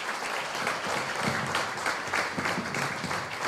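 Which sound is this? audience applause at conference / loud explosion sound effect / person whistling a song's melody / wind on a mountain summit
audience applause at conference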